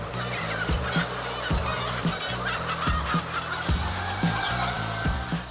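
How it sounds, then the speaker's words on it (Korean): Silkie chickens crowd a vast poultry barn holding tens of thousands of birds, and their dense, continuous clucking and squawking fills the space, with sharp calls punctuating a loud, steady din. "수만 마리의 닭이 모여 있는 축사"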